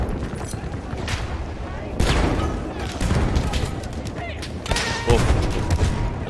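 Gunfire crackles through a busy 8v8 Frontlines tournament battle in a video game, with sniper shots among near-constant dense volleys and booms, while a voice talks over it.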